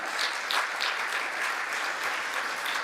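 A congregation at a Sunday service at the central headquarters claps heartily, an even, continuous roar of many hands with faint rhythmic peaks, heard alone.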